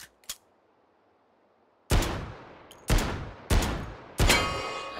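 A Draco AK rifle in Hot Dogs, Horseshoes & Hand Grenades fires four loud, spaced shots, each with a ringing tail, after a faint click and near-silence.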